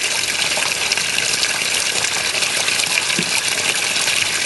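Water from a man-made waterfall gushes steadily into a pond lined with plastic sheeting, a constant broadband rush close by with no voices.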